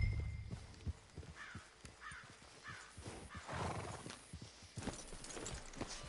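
Horse hooves clip-clop steadily in a PS4 game set near a forest, a moderate rhythmic trot of sharp hoof strikes with a brief whinny and soft outdoor ambience behind.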